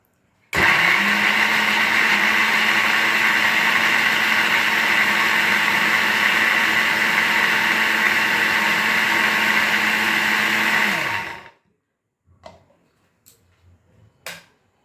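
An electric food chopper whirs loudly and steadily for about ten seconds, a constant motor drone close by, then winds down and stops, followed by a few soft knocks and handling noises.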